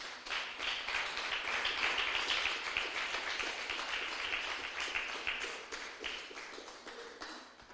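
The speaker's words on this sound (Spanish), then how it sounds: "Denle un aplauso fuerte al Señor" Members of the Nuevo Destino church in Chilpancingo applaud together in worship during a sermon, many hands clapping in a steady, rapid patter at a quiet, somewhat distant level that gradually tapers off.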